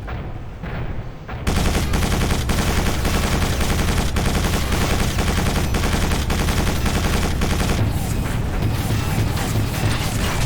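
Rocket launcher fire in Quake 4, dense and loud, with rapid explosive blasts and mechanical clatter filling the whole stretch after a brief quieter opening.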